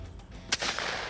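A single sharp shotgun blast fired at a skeet target during an outdoor shooting contest, a brief loud crack followed by a short decaying tail, with no talk.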